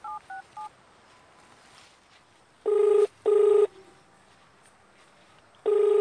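Three quick keypad beeps, then a ringback tone sounding in long, evenly spaced pulses over a faint background hiss, with no talking.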